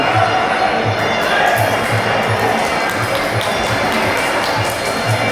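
Loud crowd cheering and shouting in a packed Muay Thai boxing stadium, continuous and roaring with rhythmic pulses, close and dense throughout.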